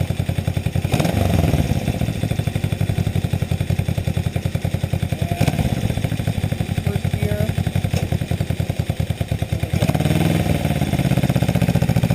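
1966 Honda CB77 motorcycle engine running close by with a steady, rapid putter and mechanical clatter, briefly blipping the throttle a few times over twelve seconds.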